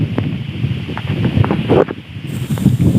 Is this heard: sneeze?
no